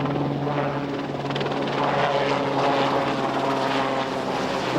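An RAF helicopter flying, its rotor and engine giving a loud, steady, continuous drone with a faint rhythmic chop throughout.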